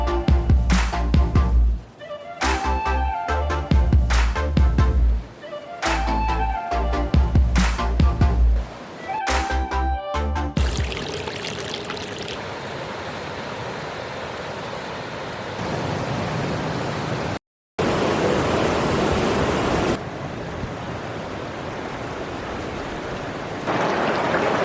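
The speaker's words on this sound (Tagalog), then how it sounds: "Ang huni sang suba kag matinaw kag matugnaw nga tubig" Steady broadband rushing of a clear, cold river, loud and close, preceded by a stretch of busy music with strong beats; a brief dropout near the end.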